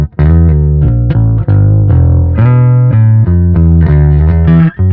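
Epiphone Thunderbird Classic IV Pro bass with the neck pickup at full volume and the bridge pickup at half, playing a short phrase of loud, sustained, close-miked notes with no speech.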